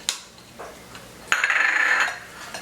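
Minced garlic stirred in a bowl, sharp clinks of a utensil against the bowl followed by a burst of rapid scraping and tapping, close and loud with no talk.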